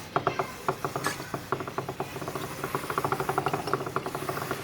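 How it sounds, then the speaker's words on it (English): A motorcycle drive chain clicks and rattles as the rear tire is spun by hand, a rapid ratcheting tick that speeds up into a dense, even patter, close and fairly quiet with no talking. "The chain is still making some noise because I've tightened it"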